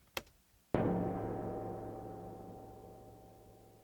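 A faint click comes first, then one sharp, woody knock on the side of a drum with a bright ring that decays gradually into a spacious reverb.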